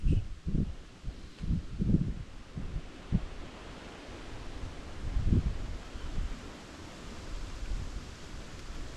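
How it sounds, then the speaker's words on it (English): Heavy wind from Storm Amy buffeting a microphone at a wild camp in low rumbling gusts, a few strong surges early and another midway, with steady roaring noise throughout. "And then it just hits you with a couple of like really big gusts."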